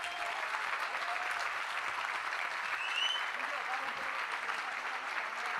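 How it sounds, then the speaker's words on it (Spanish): Crowd applauding two Muay Thai fighters after a professional tournament final: broad, continuous clapping at a distance, fairly quiet and steady, with faint cheering and voices mixed in. "Quiero un aplauso enorme,"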